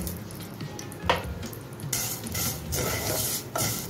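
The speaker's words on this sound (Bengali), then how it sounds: "তখন আমি সেমাইগুলো গ্যাসটা লোতে রেখে 2 মিনিট ভেজে নেব।" Vermicelli fries in ghee in a pan over low heat, a steady soft crackling sizzle punctuated by occasional spatula scrapes and stirring clinks, close and fairly quiet.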